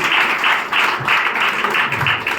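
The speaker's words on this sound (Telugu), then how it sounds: "చప్పట్లు పెడుతూ ఆహ్వానం తెలియజేద్దాం." Audience clapping to welcome a guest at a church fasting prayer service, a steady dense wash of applause at moderate level lasting a couple of seconds, with no talk over it.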